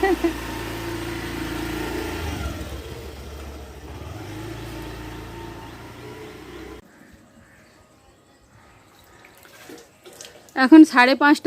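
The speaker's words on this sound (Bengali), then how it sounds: "তোমাদের দাদা ভাই এখন কলে জল ভরছে" Water running from a tap at home, a steady rushing flow blended with a low engine-like rumble that stops partway through, followed by near silence and then a voice speaking up close.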